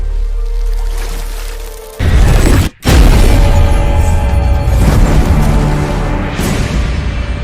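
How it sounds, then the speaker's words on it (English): A big explosion bursts from a mountain shrine: a sudden heavy boom breaks in, cuts out briefly, then returns as a loud, sustained roar and crackle that slowly fades. "The explosion from the mountain shrine covered the land in darkness."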